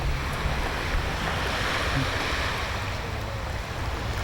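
Ocean surf rolling onto Miami Beach makes a steady, broad wash that stays loud and close for the whole stretch, with some wind rumble mixed in and no voices.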